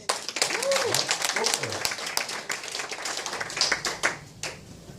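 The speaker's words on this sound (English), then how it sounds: "Let's give him a round of applause." Seminar audience breaking into a round of applause, brisk clapping from a modest crowd building and continuing, with a voice speaking briefly over the start.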